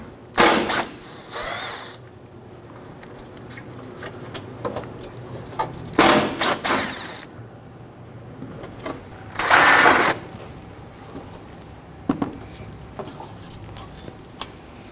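Ratchet work loosening and pulling three 10mm bolts from a fuse box bracket on a 1997-2006 Jeep Wrangler, heard as several separate bursts of clicking and rattling with quieter tool handling between them.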